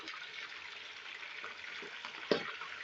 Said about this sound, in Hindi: तो यहाँ पे डालेंगे हम चिकन।